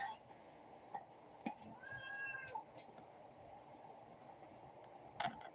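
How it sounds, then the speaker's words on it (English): A cat meows once, fairly faint and drawn out, amid a quiet room with a few small clicks and rustles. "I actually think this is too many meows."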